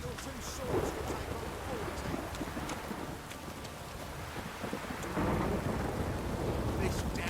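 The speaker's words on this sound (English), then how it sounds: "This downpour's a bastard" Heavy rain pouring down during a storm in The Witcher 3, a steady hiss of downpour with low rumbling and wind, growing somewhat louder toward the end, with a voice talking faintly underneath.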